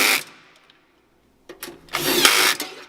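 Nuts are tightened down to hold the heat element of an A2.5/A3e in place. Short bursts of whirring driver noise come close up, separated by a near-silent pause.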